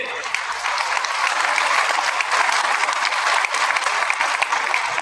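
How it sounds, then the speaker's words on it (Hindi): A celebration crowd gives loud, sustained applause for Sanjeev sir, a thick continuous roar of many hands clapping that holds steady for about five seconds. "मैं एक बार जोरदार तालियां बजवाना चाहूंगा श्रीमान संजीव सर के लिए।"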